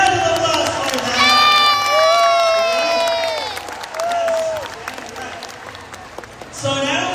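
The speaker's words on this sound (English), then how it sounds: "Let's give them a round of applause for that." An audience applauds and cheers after a youth orchestra's final concert, loud clapping with high excited shouts and whoops rising and tapering, then a fresh burst at the end.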